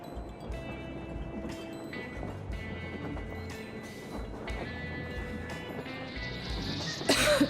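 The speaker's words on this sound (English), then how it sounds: "Damn coughing" A character in Metro Exodus coughs and clears his throat in short rough bursts over a low game ambience, without speech.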